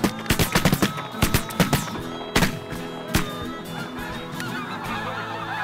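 Snow geese honking during a hunt, a dense flock calling in rapid overlapping honks alongside sharp shotgun blasts, loud and close.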